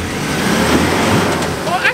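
A Ford Ranger Raptor driving off-road in low range, its engine a steady, loud, close rumble with slight surges, under a voice.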